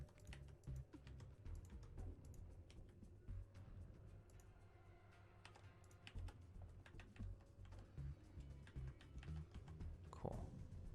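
Keyboard keys clatter in quick, uneven bursts during a StarCraft game played as Zerg, presses close and steady throughout, with a low hum of game sound underneath and a faint voice at times.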